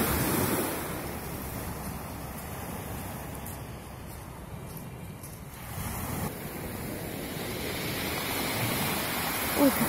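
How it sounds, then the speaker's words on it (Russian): Stormy winter sea with rough waves and foamy, muddy surf breaking steadily, a continuous broad roar with surges swelling near the end, mixed with gusty wind noise on the microphone. "Даже зимнее море, даже вот такое штормующее, бурливое, и оно прекрасно."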